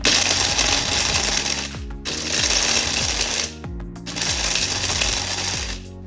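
A Hamilton Beach mixer grinder running its dry grind preset gives a loud, steady motor whine with grinding rattle, pausing briefly twice between long running stretches, with no talk over it.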